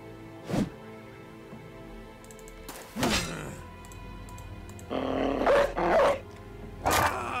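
A dog barks in the video game Battle Brothers, a few short, punchy bursts spread out over several seconds, with thuds and other game effects mixed between them.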